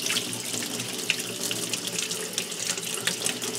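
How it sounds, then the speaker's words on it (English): A running tap rinses titanium dioxide residue off a tile, making a continuous splashing water stream close by with light brushing spatters over it and nobody speaking. "Just have some running water, get it wet, and just light brush with my hand"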